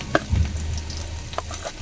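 Garlic hitting a hot pan and frying for papaitan, a short close sizzle with a couple of stirring scrapes, no voices.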